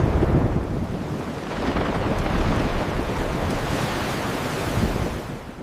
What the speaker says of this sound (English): A violent wind swept across the sea, and the peaceful journey quickly became a fight for survival.